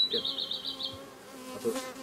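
Honeybees buzz close by at a beehive in a steady, wavering hum for about a second, then fade under faint background noise.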